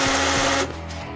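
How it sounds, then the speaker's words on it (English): A power drill bores holes into a wall for 1/4-inch red head bolt insert anchors while a 200-amp meter base is mounted, a loud steady whine that abruptly drops in pitch and intensity near the end. "drilling out the wall holes so his 1/4-inch red head bolt insert anchor will go deep enough into the wall"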